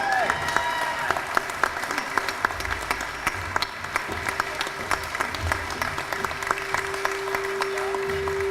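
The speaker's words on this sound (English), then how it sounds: "Let's give her mom a round of applause." A parent symposium audience claps in sustained applause with scattered individual claps, while voices and a faint tone carry on underneath throughout.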